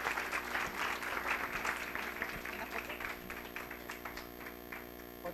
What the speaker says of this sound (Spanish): por favor, dámosla con un fuerte aplauso